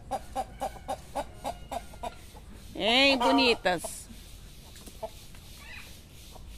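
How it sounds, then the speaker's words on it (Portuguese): Chickens cluck with a rooster among them on a rural farm, giving short, evenly spaced clucks close by, while a person speaks briefly over them partway through. "tá o galo lá, tá as galinhas"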